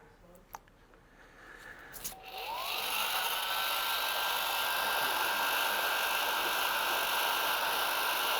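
Heat gun switching on to shrink heat shrink tubing during a Porsche 964/993 rear spoiler gearbox repair, a few handling clicks then a rising fan whine that settles into a steady airy blowing hum, close.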